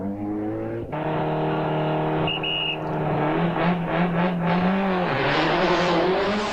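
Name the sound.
Mitsubishi Galant VR4 Group A rally car racing on tarmac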